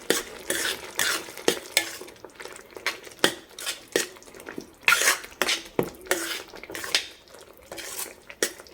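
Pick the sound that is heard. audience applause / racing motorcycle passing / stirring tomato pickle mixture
stirring tomato pickle mixture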